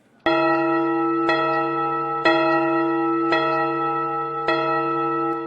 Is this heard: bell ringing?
yes